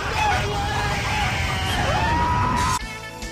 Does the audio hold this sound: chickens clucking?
yes